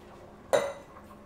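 A single bright metallic clink as a black cocktail shaker is handled, a short ringing hit that fades quickly in a quiet room.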